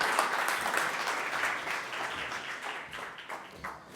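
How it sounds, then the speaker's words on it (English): Applause from a conference audience fills the space, a dense, sustained wash of many hands clapping at once that slowly thins out toward the end, with no talking over it. "Give a round of applause to Haritha."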